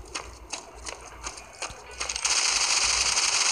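Video game gunfire strikes samurai armor in a string of sharp, spaced impacts, then gives way to a dense, hissing burst of rapid fire that holds to the end.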